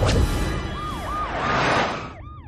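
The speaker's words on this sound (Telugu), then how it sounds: "వెంకటలక్ష్మి నడి రోడ్ లో అంబులెన్స్ ఆగిపోవడంతో ఒక గర్భిణి అవస్థపడుతుంది." An ambulance siren wails in rising and falling sweeps over a low traffic rumble, fairly loud and steady.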